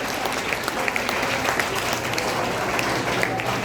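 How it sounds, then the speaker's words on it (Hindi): An audience claps to welcome a poet about to recite an Angika-language poem, a continuous, even burst of many hands clapping at moderate loudness. "ताली के साथ स्वागत करो।"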